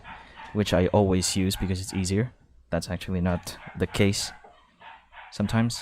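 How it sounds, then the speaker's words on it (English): A dog barks in the background while a person keeps talking in the foreground. "if you can hear our dog barking in the background"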